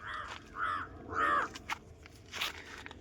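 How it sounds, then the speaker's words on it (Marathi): Crows caw outdoors in an open rural setting, giving a few separate hoarse calls at moderate distance over a quiet background. "कावळे पण खूप पडले आहेत कावळ्यांचा काव कावपणा चालू आहे"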